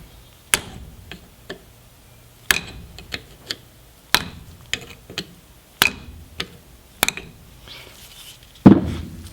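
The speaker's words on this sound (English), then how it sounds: "to do that you just use a screwdriver and a hammer" Sharp metallic hammer taps strike in an irregular series, close and loud, as a hammer and screwdriver drive out U-joint clips, with a final scraping clunk of tools on metal.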